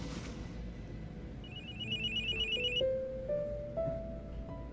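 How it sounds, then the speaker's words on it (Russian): A telephone rings with repeated electronic trills, followed by a few steady tones, heard fairly faintly in a room with no one speaking. "У тебя телефон звонит."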